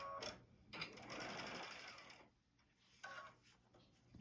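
A sewing machine runs in bursts while stitching a quarter-inch seam along a quilt block, a steady whirring hum with short pauses between runs, close and fairly loud.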